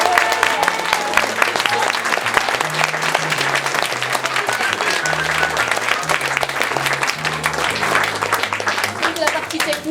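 A theatre audience applauds the troupe's technical crew after a performance, a sustained, loud wash of many clapping hands that fills the hall, with a low voice speaking underneath and sparse crowd murmur.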